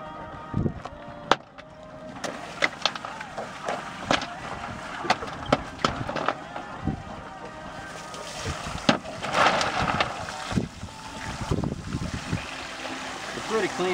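A seawater pump washes farmed oysters in mesh bags on a boat, giving a steady rushing, splashing wash with clanks and knocks of the gear.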